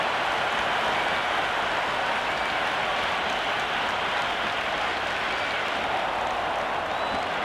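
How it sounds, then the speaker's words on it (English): A cricket crowd in the video game Cricket 26 applauds and cheers in a steady, dense wash of clapping that holds at an even level throughout, with no pauses or peaks. "It's evident and ever so audible that the crowd is at near bursting point at today's play."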